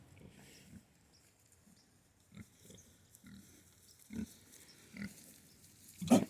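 Pigs raised on pasture give faint, scattered grunts and snuffles across an outdoor paddock. A louder snort or squeal comes at the end.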